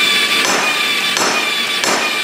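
Pedal-operated forging hammer at a blacksmith's forge, striking three times in a slow, regular rhythm, each loud metallic blow ringing over a steady background hiss.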